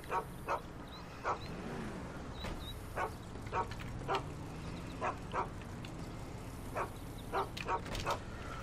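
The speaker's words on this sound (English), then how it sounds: "That neighbor's dog over there. Is that his dog? He's like going full blown bark mode." In the video game GTA 5, a neighbor's dog barks repeatedly from a backyard in sharp single and double barks every second or so, set over a low, steady engine-like rumble.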